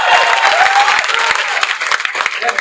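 Loud, close crowd applause during a fiery political speech, a brief burst of dense clapping with sharp individual claps standing out.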